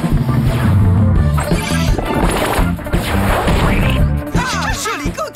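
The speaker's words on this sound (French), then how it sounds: "Kitty, déclenche le canon à bulles." A cartoon bubble cannon fires in an animated children's series, heard as a loud, busy burst of crashing sound effects layered over music.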